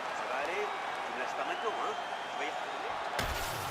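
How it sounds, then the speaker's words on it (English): A virtual arena crowd in the EA Sports UFC 5 video game cheers and applauds between rounds, a steady, dense roar of voices and clapping that continues throughout, with a sharp shift near the end. "So the crowd voicing its appreciation after that round."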